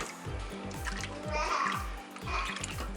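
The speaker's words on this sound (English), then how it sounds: "And pour the beef broth in as well." Beef broth poured into an Instant Pot makes a splashing, gurgling liquid sound with a rhythmic low thudding underneath, moderately loud and close throughout.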